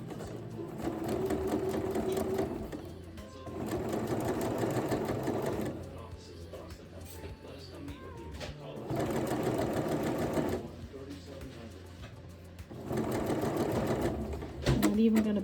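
A sewing machine stitches a rolled hem on serged fabric, running in steady bursts of a few seconds with pauses between them, close and loud, while a person talks quietly.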